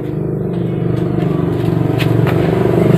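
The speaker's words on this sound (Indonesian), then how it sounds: "Sekarang akan saya kontak dan saya akan engkol." A modified motorcycle with a side-stand problem is kick-started and its engine catches. A loud, close, pulsing engine rumble builds steadily over a few seconds.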